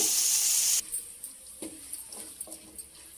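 Onions sizzling in a pan while cooking a Telugu ridge gourd masala curry, a steady loud hiss at first that drops away into faint crackles and a few soft clinks of stirring.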